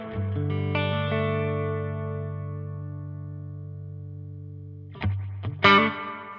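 Clean electric guitar tone run through a Tonex with reverb added: chords ring out and sustain in a long, smooth decay, then two fresh strums come in near the end.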